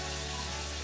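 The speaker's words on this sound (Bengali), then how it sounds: "গরম জলটাই দিলাম" Hot water pours into a pot for a rohu fish curry with gati kochu corms, a brief steady watery rush close by with no voices.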